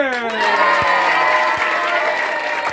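A school audience cheers and shouts to welcome a student speaker at a debate, loud overlapping voices and whoops with a few claps mixed in, the crowd noise sustained throughout.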